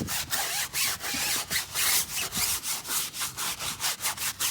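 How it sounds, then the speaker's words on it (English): A stiff brush scrubs a wet car tire back and forth in a steady rhythm, about a dozen gritty strokes close by, with no voices. "what I usually like to do is scrub the tire first"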